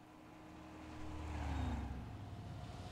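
A commandeered vehicle drives in Far Cry 6, its low engine rumble swelling toward the middle and holding steady with a faint whooshing wash on top, and no voices.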